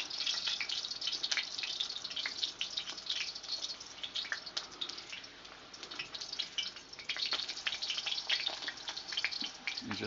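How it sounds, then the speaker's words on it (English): Commercial corn tortillas frying in oil in a home kitchen, with a steady, close sizzle and crackle that carries on without pause and has no talk over it. "First, of course, you fry the corn tortillas."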